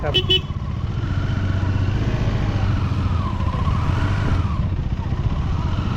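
A motorcycle engine runs close and steady at a roadside parking spot near Ganpatipule, with a brief clatter at the start and a constant low rumble throughout, with no voices.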